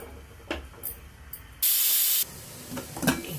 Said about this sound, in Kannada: 2 ವಿಸಿಲ್ ಬರಲಿ.